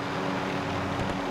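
Helicopter in the video game Warzone, a steady, fairly loud rotor and engine drone filling the scene with no talk over it.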